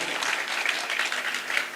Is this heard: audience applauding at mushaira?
yes